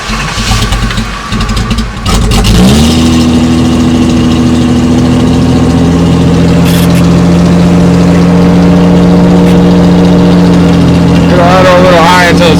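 A cold Datsun car engine turns over slowly, catches and settles into a steady, fast idle that holds, then revs up near the end; someone talks briefly at the start.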